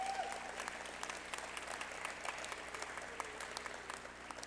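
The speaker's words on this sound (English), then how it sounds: "Please give him a round of applause." Audience applause at a college athletics awards ceremony, a steady patter of clapping heard from a distance at low level with no talking over it.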